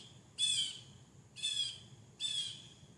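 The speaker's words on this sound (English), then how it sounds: "I hear a lot of birds right now, or maybe just one bird being really loud." A loud bird call repeated three times at roughly one-second intervals, sharp squawking bursts standing out over a quiet low background hum.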